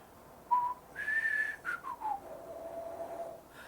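A person whistles a slow, low melodic line, several sustained tones sliding down in pitch, close and clear against a quiet room with no speech.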